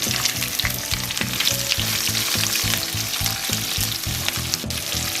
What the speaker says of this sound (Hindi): अब मैंने ये प्याज लंबे लंबे काट लिए हैं, इसको भी मैं इसमें डाल दूंगी।